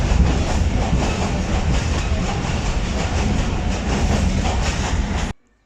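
The Ravi Express passenger train runs on rails between Lahore and Shorkot in hot weather, a loud, continuous rumble with rhythmic clickety-clack from the wheels, heard from inside the carriage until it cuts off abruptly.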